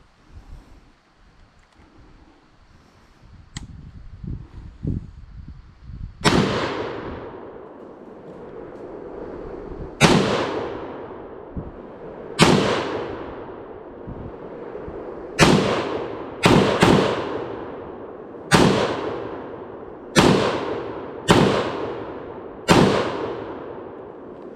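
A SIG SG-751 SAPR .308 rifle fires about ten loud, sharp shots outdoors, each with a ringing decay, spaced irregularly from slow single shots to quicker pairs, after some quiet handling and wind noise.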